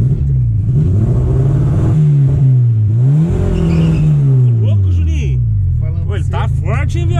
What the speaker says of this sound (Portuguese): Vamos ver como que ficou ele nesse motorzão aqui agora.